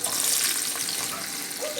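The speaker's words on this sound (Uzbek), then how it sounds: "Qozonimizga 1 cho'mich yog' quydik va piyozni solamiz." Loud, steady hiss of onions frying in a ladleful of hot oil in a cooking pot, a dense close sizzle with no talking.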